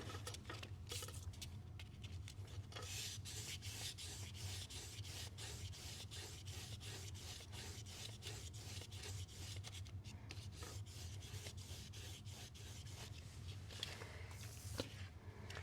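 A leathercraft tool is rubbed back and forth on 800-grit sandpaper, a steady close scratchy rasping that repeats in quick strokes for the whole stretch, with no speech.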